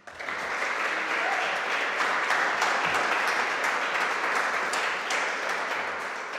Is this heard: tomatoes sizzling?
no